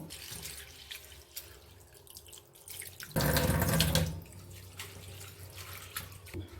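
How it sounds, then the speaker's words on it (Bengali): Tap water runs into a sink over mixed lentils being washed, a steady watery rush that surges loudest for about a second midway, with trickling and faint drips around it. "এবার এই ডালটাকে খুব ভালো করে ধুয়ে নেব।"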